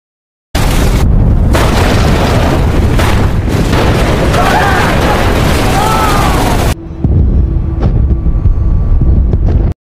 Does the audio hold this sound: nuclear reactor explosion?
yes